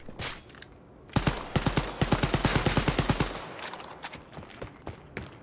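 Rapid automatic gunfire in the shooter game Wolfenstein Youngblood, a tight burst of about fifteen sharp shots followed by a few scattered single reports, loud and close with no talk.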